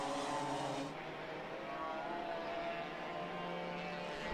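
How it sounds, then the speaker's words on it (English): A racing car with a noisy exhaust passes during qualifying heats, its harsh engine drone loud and continuous throughout, shifting pitch slightly as it moves. "Now I spy with my little ear a noisy exhaust."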